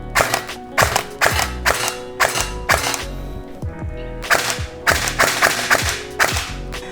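A JingJi SLR CQB gel ball blaster fires a series of sharp, loud shots in irregular bursts, some rapid and some spaced apart, with no voices.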